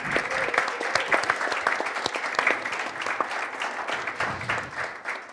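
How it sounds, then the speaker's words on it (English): Steady, dense applause rises from a forum audience for the panelists of an athletes' event, a continuous wash of many hands lasting several seconds with no speech over it. "a round of applause for our panelists"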